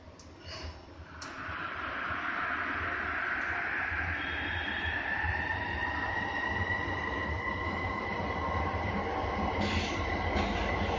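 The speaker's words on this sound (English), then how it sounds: "You can see a train coming in the other direction." A SkyTrain Evergreen Line train passes in the opposite direction on new track near Coquitlam Centre Station, heard from on board as a steady rolling rumble with rising electric whine and faint squeal, no voices.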